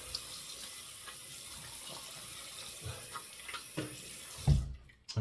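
A tap runs steadily into a sink while a razor is rinsed during a shave, with a few soft knocks against the basin. The water stops abruptly near the end and nobody talks.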